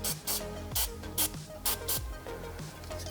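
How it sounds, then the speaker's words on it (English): Short bursts of silicone spray from an aerosol can, used while repairing a 1990 Nissan Pathfinder, several separate hissing puffs over a steady low background hum. "I didn't find any grease, but I found some silicone spray"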